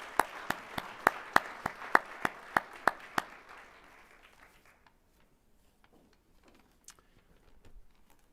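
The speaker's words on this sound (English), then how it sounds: "If you could give me a round of applause for the Chamber Board." An audience at a luncheon claps for a chamber of commerce board, sharp, evenly spaced claps for about three seconds before the sound drops off to faint room noise with scattered taps.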